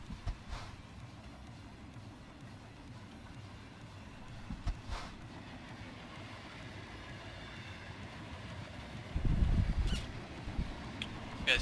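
A freight train rumbles past in American Truck Simulator at an Arizona rail crossing, a steady low rolling drone with a louder swell of wheel noise near the end, while a truck waits at the crossing.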